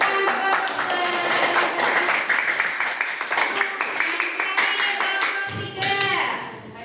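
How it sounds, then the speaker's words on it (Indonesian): Children in a school classroom clap for a group of classmates, a lively run of hand claps lasting several seconds with some voices mixed in, tapering off at the end. "Tepuk tangan untuk kelompok"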